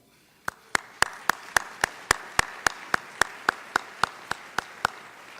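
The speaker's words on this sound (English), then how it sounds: "Now we can clap" A single pair of hands claps about sixteen times in an even, steady rhythm, close and distinct, with quiet room tone between the claps, at the San Antonio State of the City address.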